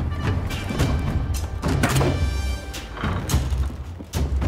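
During a Conqueror's Blade video game siege, a castle gate is battered and destroyed in a flurry of heavy, booming thuds and impacts, loud and irregular with no talk.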